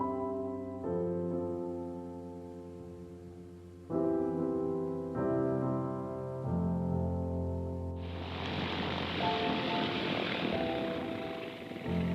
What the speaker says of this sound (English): That plane has taken an hour and 3/4 to make the flight from Renfrew Airport